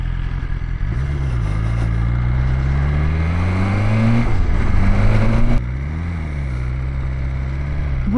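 A 2020 BMW S1000XR motorcycle accelerates up close, its engine rising in pitch through the gears with a brief drop between shifts. The engine is loud and steady, with wind noise and no voices.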